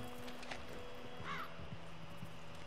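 A bird calls a few times from the open world of Red Dead Redemption 2, coarse crow-like caws at moderate distance over a steady outdoor ambience and low rumble.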